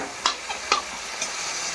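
A spoon scrapes and stirs labra, a mixed vegetable curry of cabbage, eggplant and potato, in a pan. There are three or four distinct close scrapes over a steady soft sizzle, and no voices.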